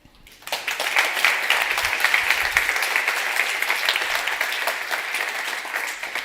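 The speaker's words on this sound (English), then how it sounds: "Please give a warm round of applause for Juliana Veldhuizen and team." Sustained applause from a conference audience on food sovereignty, a dense wash of many hands clapping that swells in quickly after a brief quiet start and holds steady, loud and continuous throughout.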